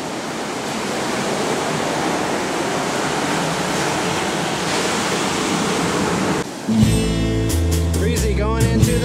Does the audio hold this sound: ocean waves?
yes